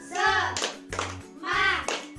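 Children in a primary school science class perform a rhythmic spirit clap, chanting together in bursts with sharp group hand claps between the chants, loud and close, repeating in a steady call-and-response pattern.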